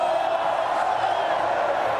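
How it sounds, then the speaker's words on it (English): A stadium crowd of West Ham fans roars in celebration of winning the Europa Conference League, a dense, steady wall of cheering and shouting that holds at full volume throughout. "listen to those cheers"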